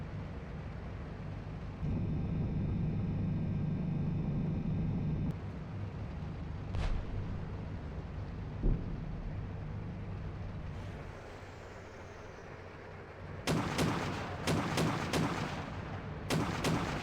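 Gunfire in the Steel Beasts Pro tank simulator during a winter operation: heavy booming shots over a low vehicle rumble, then a tight cluster of rapid loud bursts near the end.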